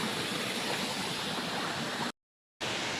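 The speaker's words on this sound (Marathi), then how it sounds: "धबधबा." Steady, dense rushing of falling water fills the scene, loud and continuous, broken by a brief gap of silence near the end.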